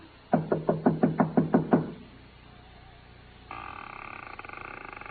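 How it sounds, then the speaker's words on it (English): A radio-drama sound effect of knuckles knocking on a door in a deserted Mexican town gives eight quick, evenly spaced raps, followed by quiet and then a faint steady tone. "I finally took a chance and knocked on a door."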